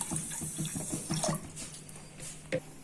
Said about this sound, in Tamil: சர்க்கரை 1 கப் எடுத்திருந்தோம். அதில் கொஞ்சமாக தண்ணி விட்டு